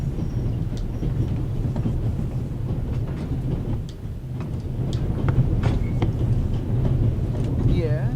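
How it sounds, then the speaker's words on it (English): Rumbling interior train noise in The Raven Remastered, a steady low rolling drone with occasional clicks and rattles running throughout. "The noise on this train is driving me crazy."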